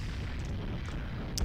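Explosion with slowdown in the arcade shooter Ikaruga, a brief dense low rumble that is fairly faint and steady, with a small sharper burst near the end.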